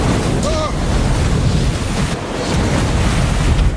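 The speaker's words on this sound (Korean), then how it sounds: "거대한 파도가 몰아치기 시작하고" Huge ocean waves surge and crash around a small raft on the open sea, a loud, continuous roar of surf mixed with gusty wind, swelling and easing in waves.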